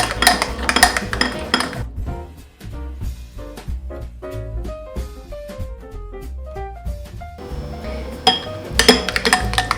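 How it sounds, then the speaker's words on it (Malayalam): A spoon stirs a sugar lace mixture in a bowl, making busy metallic clinks and scrapes against the dish, close and fairly loud, with several ringing taps throughout and no voices. "ഇത് നമ്മൾ നന്നായിട്ട് ഇളക്കി യോജിപ്പിക്കണം."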